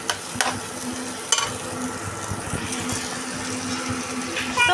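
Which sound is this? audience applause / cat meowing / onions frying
onions frying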